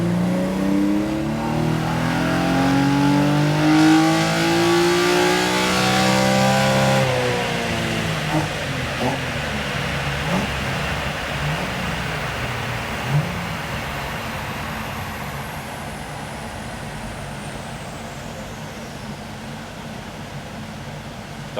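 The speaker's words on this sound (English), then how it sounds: "I'm about to go wide open throttle." A naturally aspirated Toyota 2JZ engine in a GX81 runs wide open throttle on a dyno, rising in a loud climbing roar for about seven seconds, then dropping off to a lower idle-like rumble with occasional pops.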